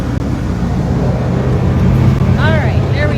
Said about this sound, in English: Sounds like we've got a truck coming by